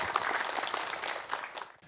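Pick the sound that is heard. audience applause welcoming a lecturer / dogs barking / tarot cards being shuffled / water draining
audience applause welcoming a lecturer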